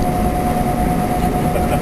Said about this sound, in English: A couple of cargo airplanes.